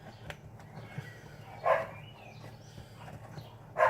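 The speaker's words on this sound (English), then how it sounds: "Sorry guys if you can hear that in the background. It's just my dog." Pet dog barking in the background of a home kitchen during cooking, two short muffled barks spaced a couple of seconds apart over low room noise, no talk.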